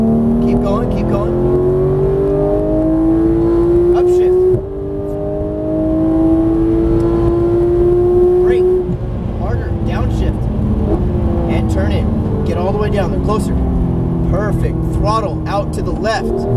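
A Porsche GT3 engine pulls hard on a race track, its pitch climbing through the gears with loud, steady acceleration and a shift break partway through, while a driving coach talks over it.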